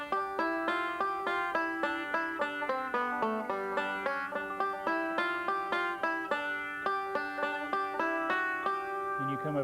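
A five-string banjo replays the opening four measures of a festival tune in a bright, rapid stream of evenly picked rolling notes, close and moderately quiet, with no voice over it.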